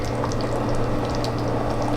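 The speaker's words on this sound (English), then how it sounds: "and let it simmer." Lasagna soup with broken noodles simmering in a pot, a steady soft bubbling wash with faint pops, continuous and close, over a low hum.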